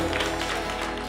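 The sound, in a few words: congregation clapping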